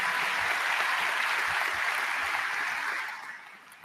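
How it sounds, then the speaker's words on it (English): Graduation audience applauding steadily in a large hall, dense even clapping that holds for about three seconds before thinning out and fading. "Let's give Ella a round of applause, everybody."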